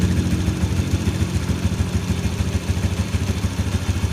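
A freshly rebuilt Jupiter MX motorcycle engine runs at idle, a close, steady, rhythmic low chugging with a faint mechanical clatter.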